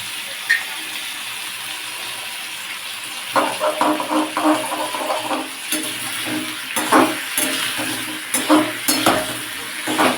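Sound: asafoetida (hing) sizzling in hot oil tempering with potatoes

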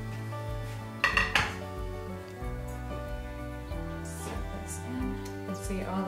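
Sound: taking apart a colander and bowl used for straining skyr

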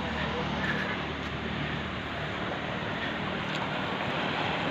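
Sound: canal water rushing through a micro hydro spillway

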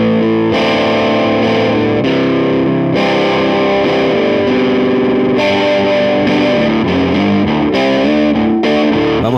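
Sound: Fulltone OCD overdrive pedal on electric guitar

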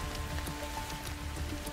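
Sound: rain falling

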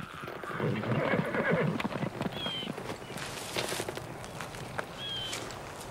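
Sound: horse neighing and hooves

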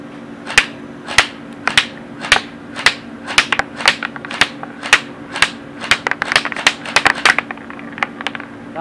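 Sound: Cyma AK airsoft gun firing semi then full auto

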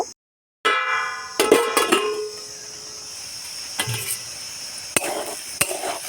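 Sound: thankuni leaf fritters frying and being stirred in a pan

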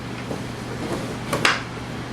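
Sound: old wooden drawer being opened and closed

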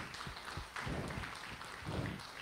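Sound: congregation clapping hands in praise at church service

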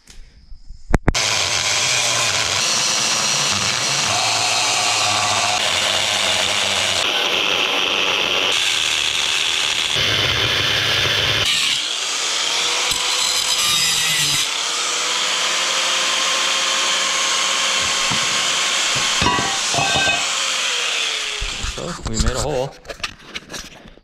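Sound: grinding while cutting lowrider lower control arms

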